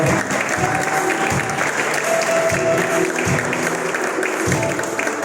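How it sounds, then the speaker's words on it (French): A church congregation bursts into steady, loud applause during a worship service, clapping filling the room continuously for several seconds with faint voices mixed in. "Est-ce qu'on peut acclamer le Seigneur pour nous chanter ça?"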